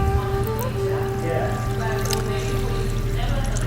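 Room-temperature water poured over sugar and other ingredients for traditional Barbari bread dough, a steady close splashing pour running throughout over a low hum.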